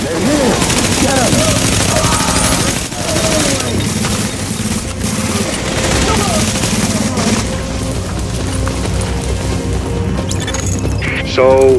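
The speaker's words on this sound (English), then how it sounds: "So, that shooting, that was you, right?" Gunfire in The Division during a hard-mode subway morgue fight: loud, dense automatic fire and bursts that keep going for the whole stretch, mixed with impacts and voices talking over the shooting.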